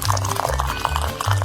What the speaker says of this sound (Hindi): फिर एक ग्लास में इसे डालेंगे और फिर उबलते हुए पानी को डालेंगे।